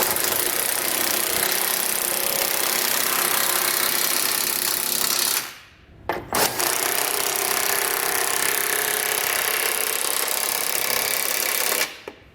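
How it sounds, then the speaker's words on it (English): A powered tool drives a socket to tighten trailer hitch hardware on a 2018 Jeep Grand Cherokee, giving a loud, steady whirring buzz in two long runs broken by a short pause. "we'll grab our socket and snug everything down"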